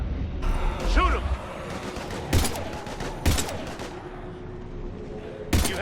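Heavy gunfire in a Mass Effect Legendary Edition battle on PS4 against Husks: a few loud, sharp bursts stand out over a busy combat din with rumbling low effects, and a voice calls out briefly in the middle.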